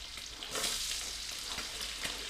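Onions fry with garlic in a hot pan, producing a loud, continuous, dense sizzle with slight surges as the pan is stirred, and no voices over it.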